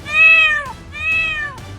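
A cat gives two loud, clear meows in quick succession, each a drawn-out tonal call close by.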